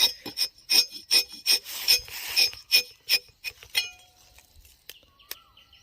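Rapid rasping metallic scrapes and clinks as a rubber-tapping knife held at the middle is jerked, repeating in a quick uneven rhythm close up, then thinning out into a few scattered taps.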